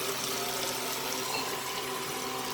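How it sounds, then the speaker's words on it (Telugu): Tamarind extract is poured into a simmering Godavari-style fish curry, giving a steady, even watery pour that runs unbroken and fairly quiet throughout. "చింతపండు పులుసు వేసేద్దామండి"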